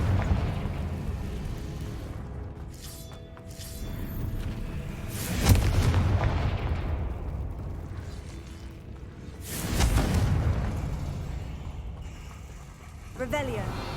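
Confringo fire spells from Hogwarts Legacy burst in two heavy booming explosions with whooshing tails, one midway and one later, among quieter game ambience and a voice casting the spell.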